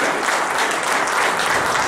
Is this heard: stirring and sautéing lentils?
no